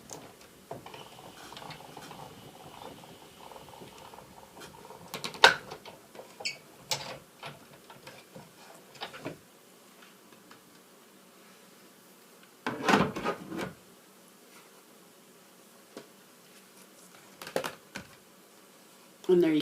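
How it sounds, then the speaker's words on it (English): A Big Shot die-cutting machine embosses paper through an embossing folder, giving scattered short mechanical clicks and rattling bursts between quiet stretches, close and moderately loud. "you're just going to run it through the Big Shot."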